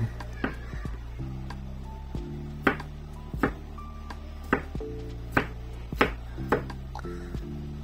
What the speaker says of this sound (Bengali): তারপর আমরা কুচি করে কেটে নিব, সেটাও আমরা একটু মোটা করে কেটে নিব